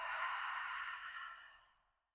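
A long, slow breath pushed out through a wide-open mouth during pregnancy yoga, close to the mic, with a soft airy hiss that starts full and trails away to silence across about two seconds.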